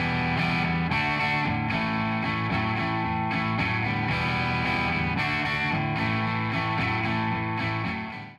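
Distorted electric guitar captured by a Rode NT2A condenser in figure-eight pattern, set one to two feet from the amp; a continuous, slightly quieter and airier chugging riff plays alone and fades out at the end.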